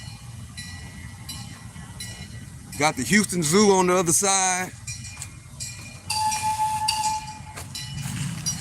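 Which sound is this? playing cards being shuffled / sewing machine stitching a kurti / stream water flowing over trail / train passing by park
train passing by park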